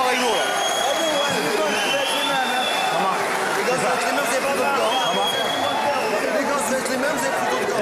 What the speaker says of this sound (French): Sous les sifflets. Et quelques applaudissements.